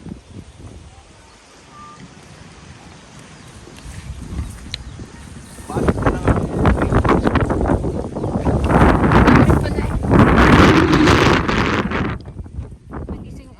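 Wind blows across an open vegetable and peanut farm, starting as a low rush and swelling into loud, buffeting gusts that batter the microphone, with voices heard at times.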